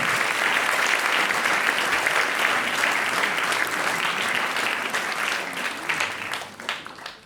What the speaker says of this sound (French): je crois qu'on peut applaudir déjà le début de l'école